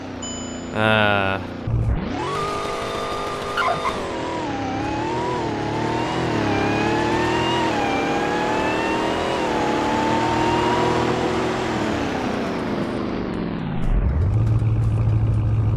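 Simulated car engine in the Roblox game Greenville revs up through a long, steady acceleration with rising pitch, then cuts off abruptly as the car brakes, loud and close, with a brief noise before it starts.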